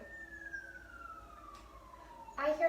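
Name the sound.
emergency vehicle sirens outside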